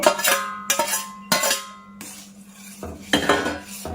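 Metal utensils clank and scrape against a pan as fried semolina goes into boiling milk juice for a watermelon halwa, several sharp ringing knocks in quick succession close by, with a low bubbling hum underneath and no talking.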